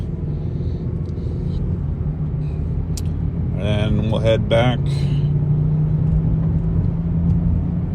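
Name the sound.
car driving with possible wheel bearing noise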